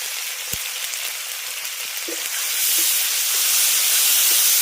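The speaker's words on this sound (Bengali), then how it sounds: "এবার মশলাটাকে হালকা করে একটু কষিয়ে নেব" Green chili, ginger, turmeric and chili powder frying in hot oil for a banana-blossom dish, a steady close sizzle and hiss that swells louder partway through, with faint clinks of a spoon.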